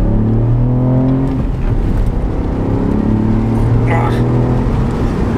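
A 200 hp Ford Fiesta ST in sport mode accelerates hard, its engine note climbing loud and close from inside, with a quick drop at a gear change before it pulls and rises again.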